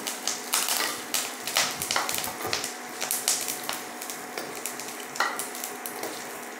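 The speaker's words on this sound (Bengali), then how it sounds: "কারি পাতা লঙ্কা এমনি ভালো করে ভেজে নিতে হবে।" Curry leaves and chilli fry in a pan for a soft tempering before dhokla, with a continuous close sizzle broken by repeated scraping strokes of a spoon stirring through the oil. No one speaks.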